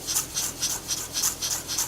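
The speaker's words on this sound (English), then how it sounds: "trim off the very kind of end pieces, and then just thinly slice the stems into some small rounds" A knife thinly slices cilantro stems on a cutting board, giving about seven quick, even, crisp cuts in a steady rhythm, close up and fairly soft.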